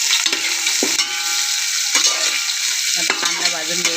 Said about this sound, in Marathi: आपण कांदा टाकून घेऊया.